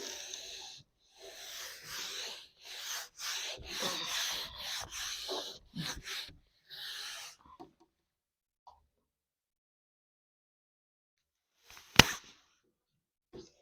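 An eraser or duster rubbing chalk writing off a classroom board, a series of quick scrubbing strokes in steady rhythm for several seconds, then quiet with a single sharp knock near the end.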